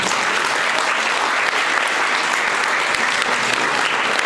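An audience at the opening of the first International Literary Festival in Odesa gives thick, even applause, loud and continuous from start to finish.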